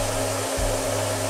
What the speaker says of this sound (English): So I'm using a hairdryer to test it.